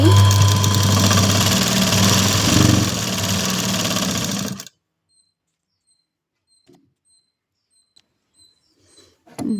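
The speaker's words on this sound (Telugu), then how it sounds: "కుట్టేది నీట్గా ఇలా కుట్టేసాను" A sewing machine stitches a blouse as a beginner's tailoring lesson, running loud and steady for about four and a half seconds before stopping abruptly, followed by near silence with a few faint ticks and small handling sounds.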